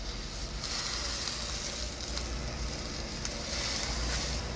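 Bean sprouts boil in an uncovered pot with a dense, steady bubbling hiss that stays loud and even throughout, with no voices.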